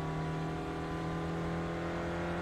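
Mazda MX-5 race car engine droning steadily under acceleration at Donington in iRacing, a loud, constant harmonic whine filling the whole stretch with no talk.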